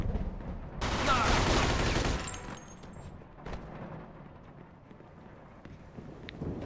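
Gunfire in the Mafia 2 video game comes as a loud, dense burst of shots lasting about a second, then fainter scattered cracks and rumble as the action continues.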